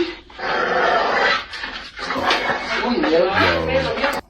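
A dog in an outdoor setting makes excited barks and whimpering vocal sounds mixed with close, loud human chatter, with a steady background noise and a sudden stop at the end.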